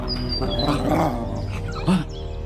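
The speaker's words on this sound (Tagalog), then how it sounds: "Nang dadamputin ko ng panyo ay isang malakas na angil ang narinig ko." A large dog, a menacing beast in a rural Filipino horror audio drama, lets out a loud close growl over a dense background score, with a short sharp snarl near the end.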